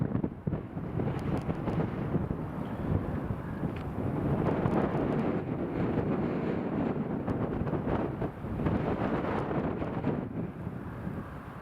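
Strong crosswind gusts across Newcastle Airport, buffeting the microphone with a loud, rumbling roar that swells and eases without pause.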